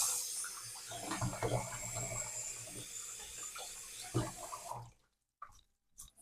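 Pinter 3 homebrew parts rinsed under a running sink tap, a soft, steady stream of splashing water that stops abruptly near the end, leaving a few faint drips and clinks.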